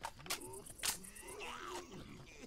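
Growl of a Hunter special infected in Left 4 Dead 2 on the Dead Center campaign, a short snarling roar amid gunfire and game noise, with players talking over it.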